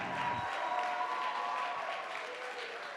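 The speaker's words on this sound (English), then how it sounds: "So let's give her a big hand." Steady audience clapping fills the room after a TEDx talk, sustained and even throughout, fading only slightly toward the end.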